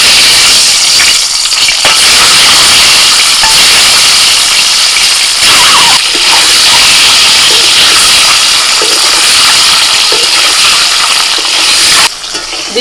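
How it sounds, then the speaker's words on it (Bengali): Eggs fry in mustard oil in a wok, a loud, continuous hiss and crackle of spattering oil filling the whole stretch, with brief dips near the end. "এবার ডিম ভেজে নেব।"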